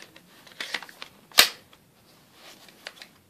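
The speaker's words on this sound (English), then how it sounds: "And I'll put the mag in it." A magazine clicks home into an HFC T77 Uzi airsoft gun: soft handling rattles lead to one sharp, close metallic snap, followed by faint plastic shuffling.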